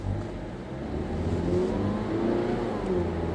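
A Mazda3 s engine pulling under acceleration in a steady, mid-pitched drone that rises gently in pitch, heard from inside the car at moderate loudness with no voices.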